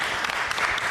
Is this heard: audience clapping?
yes